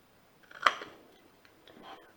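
A single crisp scissor snip cutting a notch into paper for a card, followed by a couple of faint softer snips in a quiet room.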